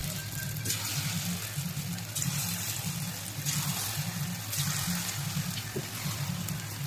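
Potato 65, pieces of marinated potato dropped into hot, boiling oil, a steady broad hiss and crackle of frying that stays even and close throughout, heard alone without talk.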